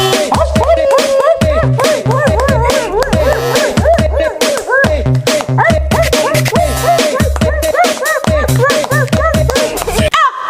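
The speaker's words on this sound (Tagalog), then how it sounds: "Marunong din siya mag-dance. Dance, Doggy." A dog yips, whines and makes short vocal bursts in a rapid, continuous run, loud and close.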